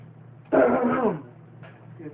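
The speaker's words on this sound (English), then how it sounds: "I'm having a little bit of coughing issue" A single harsh throat-clearing cough from a man indoors, close and fairly loud, lasting under a second, followed by a faint softer throat sound.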